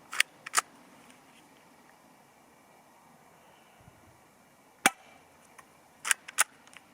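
A CZ75 SP-01 Shadow airsoft pistol fires at a target 25 metres away, sharp snapping shots in small clusters with quiet gaps between them, close and crisp over faint outdoor background.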